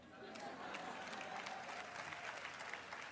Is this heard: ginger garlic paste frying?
no